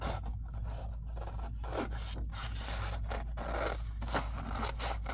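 Scissors cut through paper for a junk journal envelope in a series of quiet, crisp snips and scraping strokes, close and fairly faint, with no voices.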